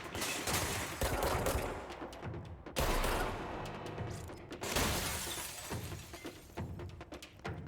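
Gunfire in the game Control striking a wall, a loud, dense barrage of shots with shattering, crumbling debris that surges and pauses in waves and has no talk over it.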